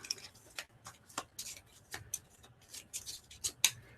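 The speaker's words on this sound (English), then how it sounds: "So you take this deck and you shuffle it up real good" A deck of game cards is shuffled, giving a quick run of sharp, light snaps and clicks with irregular spacing, faint and close.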